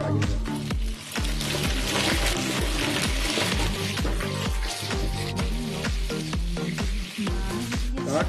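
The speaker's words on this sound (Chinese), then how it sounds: "炸至表皮已经结壳了，要用了可以捞出来，再复炸一次" Apple pieces, already crusted, are deep-fried a second time in hot oil, giving a steady, dense bubbling sizzle throughout under a rhythmic tonal backing, with no talking.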